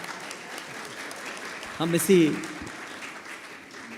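An audience at a Hindi music and poetry gathering gives a brief burst of clapping lasting about a second, fairly quiet and set apart, after a single spoken word.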